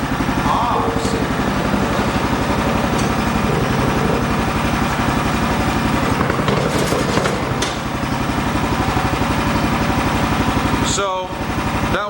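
A Toro snowblower, left sitting unused for five years, runs steadily close by with a throbbing small-engine idle for most of the stretch, while a person talks over it; a short clatter near the end.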